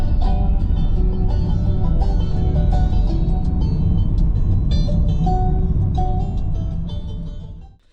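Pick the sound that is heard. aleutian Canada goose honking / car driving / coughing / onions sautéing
car driving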